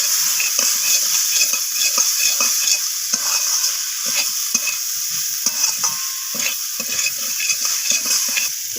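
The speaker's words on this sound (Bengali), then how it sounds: "তো সয়াবিনটাকে আমি মশলার সাথে এইভাবে ভেজে নিচ্ছি নাড়াচাড়া করে।" Boiled soybean chunks fry with spices in a pan, giving a constant bright sizzle broken by repeated scraping knocks of a stirring utensil in an uneven rhythm, close and fairly loud, with no voices.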